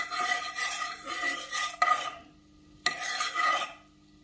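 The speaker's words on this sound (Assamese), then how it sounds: "চেনিখিনি যেতিয়া ব্ৰাউন কালাৰ হৈ আহিব, সেই সময়লৈকে আমি চেনিখিনি এনেকৈ মিহলাই ল'ম।" Sugar being stirred in a pan until it browns for kheer, giving two scraping, rasping bursts of spoon against metal with a sharp knock between them and a short quiet gap.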